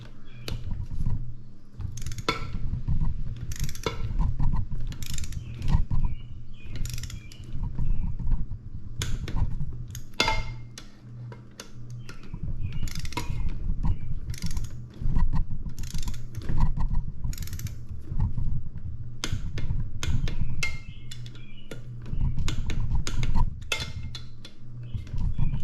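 Close, steady ratchet and torque wrench clicking as connecting rod bolts are tightened to 14 foot-pounds on a Yamaha G2 JN6 gas golf cart engine, with dense repeated mechanical ticks over a constant low hum.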